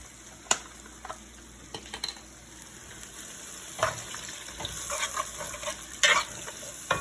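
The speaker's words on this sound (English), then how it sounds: "So now I'm going to add my stock a little bit at a time." Stock is poured a little at a time into a roux for chicken pot pie, stirred with soft scraping and gentle sizzling, broken by a few clinks of utensil against pot.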